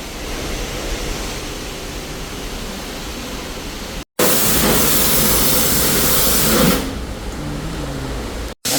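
A pressure jet sprays water over a car at a wash, a loud, steady broadband hiss that cuts out briefly twice and surges harder in the middle stretch.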